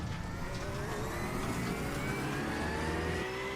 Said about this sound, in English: The engine sound is too loud.